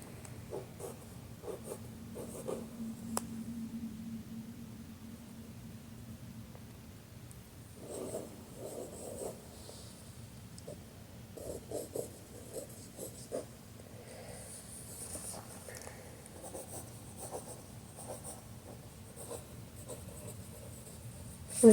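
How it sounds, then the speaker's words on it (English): A pen or pencil writing on paper while preparing tallies for a market, with soft scratchy strokes coming in quiet bursts over a long stretch, close and low in level, no voices. "So I guess I should write this down on this paper."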